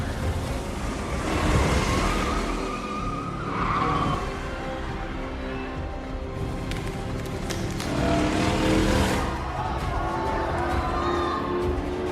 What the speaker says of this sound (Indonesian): Mobil yang digunakan Dom memang melaju kencang